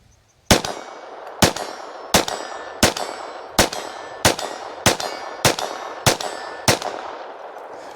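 An FN 502 Tactical pistol fired with Aguila ammunition at steel targets 25 yards out: ten evenly spaced sharp shots, each followed by a ringing clang from the steel, loud and close with no talk.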